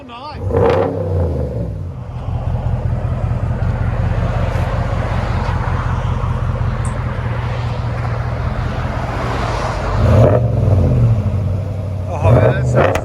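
A 2021 Ram 1500 with the 5.7L HEMI V8 and B2 Performance dual exhaust rumbles loud and close, holding a deep steady drone before surging in revs near the end, with voices over it.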